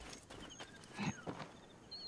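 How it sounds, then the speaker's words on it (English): A horse in Assassin's Creed Origins trots up, a few soft hoof clip-clops and a brief snort heard faintly and fairly close amid quiet game ambience. "There is my horse."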